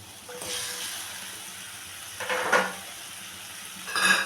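Fish curry gravy bubbling at a boil in a pan, a steady hiss and sizzle with louder surges of spattering around the middle and end, close and fairly loud, no talk.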